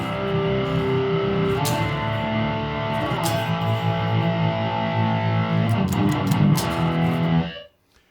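Heavy distorted electric guitar chugs and sustained chords through a small Zilla 1x10 speaker cabinet, loud and continuous, ending abruptly with a cutoff.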